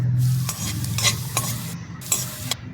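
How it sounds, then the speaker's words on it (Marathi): Cumin, mustard seeds, onion, green chilli and curry leaves sizzle in hot oil while a spoon stirs and scrapes the pan in several quick strokes, close and clear with no talking. "जिरे मोहरी कांदा मिरची कढीपत्ता असं टाकून तेलामध्ये चांगलं परतून घेतलं"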